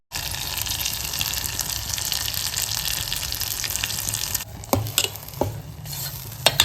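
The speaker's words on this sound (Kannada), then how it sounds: "ಟೊಮ್ಯಾಟೊ ಪೇಸ್ಟ್ ಮತ್ತ ಕೊಬ್ಬರಿ ಪೇಸ್ಟ್ ಸೊ ಅದನ್ನೆಲ್ಲಾನು ಹಾಕಿ ಮತ್ತು ಚೆನ್ನಾಗಿ ಮಿಕ್ಸ್ ಮಾಡ್ಬೇಕು" Tomato paste and coconut paste stirred into hot sizzling oil in a pan for sambar, a steady frying hiss with scraping stirs that drops away near the end, leaving a few sharp clanks and scrapes.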